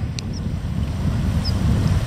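Strong wind outdoors on a wilderness trek through the Vätsäri and Tsarmitunturi wilds: a steady, loud low buffeting roar against the microphone, with no voices.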